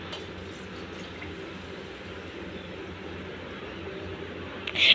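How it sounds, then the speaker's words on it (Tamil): Water pours steadily onto soaking rice for chicken biryani, a continuous moderate splashing wash that holds evenly throughout before a brief louder burst at the very end. "இப்போ நான் தண்ணி ஊற்றிக்கிறேன்."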